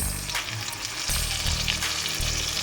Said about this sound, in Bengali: এটাকে একটু তেলের উপর অল্প করে আগে একটু ভাজা ভাজা মতন করে নেব।